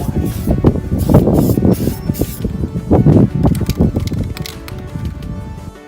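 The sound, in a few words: spray paint can applying first coat on car body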